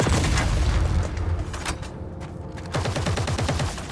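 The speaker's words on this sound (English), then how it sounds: "you'll hear fires, gravel, explosions, turrets firing at you" Sci-fi combat in the video game EVE Vanguard: a dense barrage of turret gunfire and explosions rumbles continuously, briefly thinning midway before heavy rapid firing resumes loud and close.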